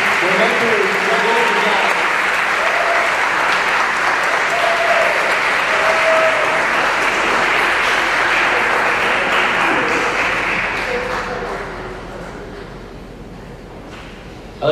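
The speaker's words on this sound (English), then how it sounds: "a round of applause for these incredible athletes" Long, loud round of applause for athletes at a board of education meeting, dense crowd clapping holding steady for about ten seconds, then fading, with some speech audible beneath.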